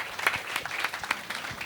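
An audience at a small live music and wine show gives a round of applause. The clapping is moderate and uneven with scattered sharp claps, fairly quiet, and there is no talk over it.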